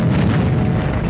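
Explosion in a documentary about the Pearl Harbor attack, a brief, loud, dense low rumbling boom that fills the whole moment without any talking.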